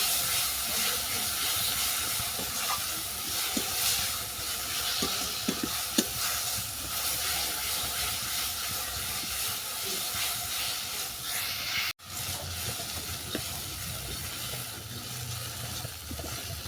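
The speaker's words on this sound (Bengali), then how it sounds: "এর সঙ্গে দিয়ে দিলাম স্বাদ মতো লবণ এটাকে ভালো করে কষিয়ে নেব" Barma greens sauté with salt in a pan over a village-style kitchen fire, a steady close sizzle and hiss running throughout with occasional scrapes of stirring.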